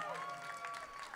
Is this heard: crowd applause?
yes